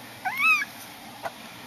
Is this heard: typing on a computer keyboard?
no